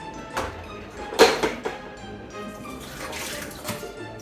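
Water splashes and runs in bursts while homebrew equipment is rinsed and cleaned after brewing a pumpkin ale, with knocks and clatters between the splashes, close by and without talk.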